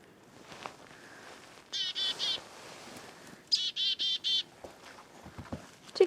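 A chickadee calls nearby in bursts of buzzy, repeated 'dee' notes, two clear runs of three to four notes standing out over a soft background with a few faint chirps.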